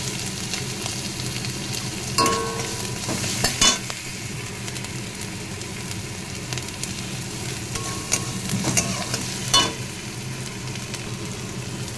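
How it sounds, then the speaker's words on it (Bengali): Catla fish and tomatoes being stirred in a frying pan, a continuous sizzle punctuated by scraping utensil strokes and a few sharp clinks, close and fairly loud, no voices. "টমেটো দিয়ে একটু নাড়াচাড়া করে দিলাম"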